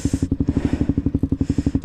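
A KTM Duke 125 motorcycle with an IXIL Hyperlow exhaust and no K&N air or oil filter runs with a steady, close, throbbing beat of engine pulses that keeps an even pitch throughout, and no voices are heard.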